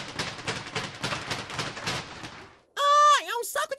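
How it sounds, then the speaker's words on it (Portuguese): Repeated heavy thuds of a punching bag being struck in a sound guessing game, a rapid series of dull impacts for about two and a half seconds, followed by a burst of high, wavering voice sounds. "Ah, é um saco de pancada."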